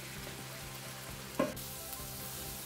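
Potatoes frying in a pan during a South Indian potato fry, a quiet continuous sizzle with one brief louder stir or scrape partway through.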